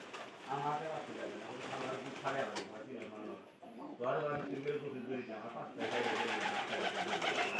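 Pigeons coo in their coop, low throaty calls running through the whole stretch beneath near, steady human talking.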